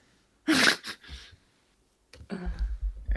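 One person sneezes sharply at close range, followed by a short breathy aftersound, then a pause before muffled handling noise.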